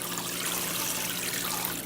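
Steady rush of tap water running while a raw turkey is washed, close and constant throughout with no voices.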